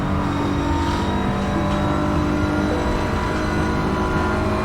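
Race car engine in Assetto Corsa Competizione powering uphill at Suzuka, a loud, steady, close drone with a sustained high whine throughout, no pauses.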